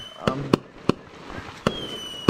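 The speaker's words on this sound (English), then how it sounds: "Don't mind the fireworks. I don't know why they're going off, but they are." Fireworks going off outside: five or six sharp, separate cracks and pops spaced irregularly, moderately distant, with quiet room tone in between.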